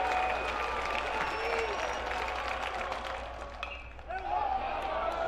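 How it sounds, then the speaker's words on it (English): A baseball crowd at a high school 3A state championship game stands and cheers, a broad murmur of voices and scattered claps and shouts, with a commentator's voice speaking over it. "The crowd on its feet."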